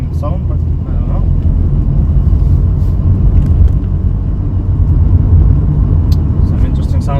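A car long unused for five years idles on its own after the throttle is released, a loud, steady low engine rumble with a person talking over it.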